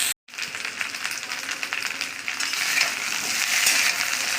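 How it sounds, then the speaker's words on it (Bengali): Onion frying in a pan for a tangra fish dish with ol kochu, a steady crackling sizzle after a brief silence, growing slightly louder toward the end. "এটা একটু ভালো করে ভেজে নেব"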